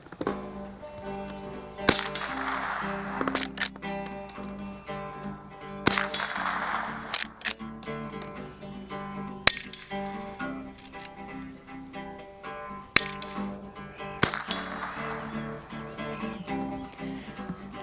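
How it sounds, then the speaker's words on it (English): Henry Frontier .22 rifle fired at a target at 50 yards, a handful of sharp, isolated cracks spaced several seconds apart, fairly faint against a steady outdoor background, with a few metallic clicks from working the action between shots. "Let's give it some shots."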